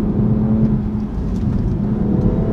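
A BMW M140i hot hatch, rear-wheel drive, pulls hard through a corner in third gear. The engine note is loud and close with a steady mid-pitched drone and a whirring hum, alone with no talking.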